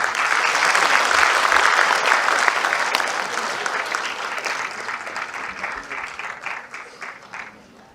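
An audience at a talk session applauds, dense clapping from many hands filling the room at first and then gradually thinning and fading as the applause dies away.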